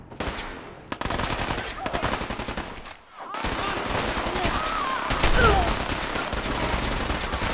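A minigun fires in Fallout 4's Nuka-World, in a fight with gunners and super mutants. Rapid continuous bursts sound loud and close, with a brief gap partway through and other gunfire mixed in.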